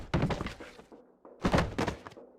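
Two dull thumps about a second apart, each a short broadband thud with a quick decay, from a character's side roll in the video game Mafia: The City of Lost Heaven; no voices.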